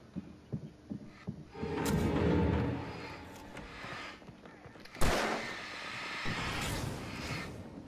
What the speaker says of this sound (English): God damn it, I was trying to shoot that barrel.